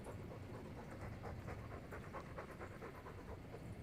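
Gamlin the dog from Dragon Age 2 pants steadily and close, a continuous rapid huffing breath filling the whole stretch with no talk over it.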